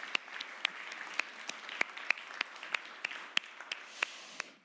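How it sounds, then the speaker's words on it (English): Steady applause from a crowd, with a dense wash of clapping and a few sharp, louder claps standing out at irregular moments throughout. "Let's have a big applause to all around."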